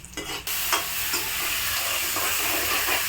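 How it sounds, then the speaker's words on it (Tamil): Chana dal, urad dal, dried red chillies, black pepper and cumin tempering in hot oil in a pan, a close, steady sizzle and crackle that jumps up after a quiet start and keeps going, with occasional spatula scrapes and no voices. "இப்போது வானலியில் இதில் கடலைப்பருப்பு, உளுத்தம்பருப்பு, காஞ்ச மிளகாய், மிளகு, ஜீரகம் எல்லாம் நல்லா"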